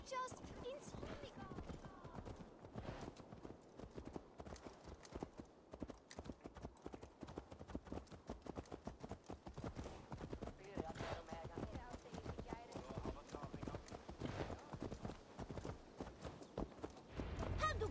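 A horse in Assassin's Creed Valhalla clip-clops steadily and continuously, its hooves close and prominent amid busy game ambience, with no clear talk over it.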